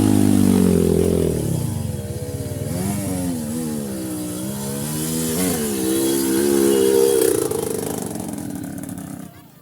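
Trail motorcycles ride off-road at a Borneo trail event. Their engines drone loudly and continuously, rising and falling as they rev, through the whole stretch.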